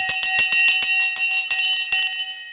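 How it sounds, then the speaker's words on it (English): A small bell rings in a quick, bright, repeated series of about a dozen strikes, loud and close, with clear ringing overtones and no talking. "Now then, ring the bell."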